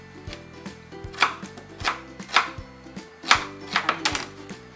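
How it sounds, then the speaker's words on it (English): A knife chopping an onion into small pieces on a board, a fast run of crisp, close knocks in a quick, slightly uneven rhythm with no talking. "I'm going to start by cutting my onion into smaller pieces"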